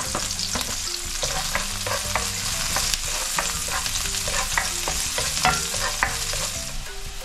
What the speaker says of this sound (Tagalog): Sunod naman natin ng bawang.